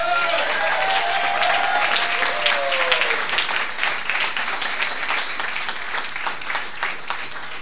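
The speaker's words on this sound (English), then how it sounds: "So, round of applause for the players that are here tonight." A crowd at a Hard Rock Cafe gathering in Atlanta applauds soccer players from the Atlanta Silverbacks, with thick, sustained clapping and a brief whistle early on, tapering gradually over several seconds.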